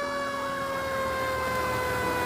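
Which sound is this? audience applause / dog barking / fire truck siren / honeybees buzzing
fire truck siren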